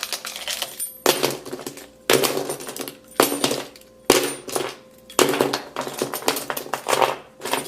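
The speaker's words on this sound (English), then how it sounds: "So I'm going to start going with the back. So just light to medium type of scratches" The back of an iPhone 7 being scratched with light to medium strokes: a series of about seven harsh, gritty scraping bursts in a regular rhythm, loud and close with no talk.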